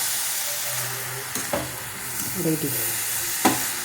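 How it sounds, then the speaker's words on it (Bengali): Radish ghonto with garam masala being stirred in a pan over a continuous frying sizzle, with a few soft scrapes of the spoon, while a voice speaks briefly. "ব্যাস এবার নেড়ে আমার মূলোর ঘন্ট"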